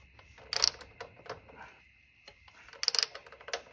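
A ratchet wrench loosens a large motorcycle bolt torqued to about 80 foot-pounds during a belt conversion on a Speed Twin, with two bursts of quick ratcheting clicks separated by quieter mechanical handling, heard close and alone.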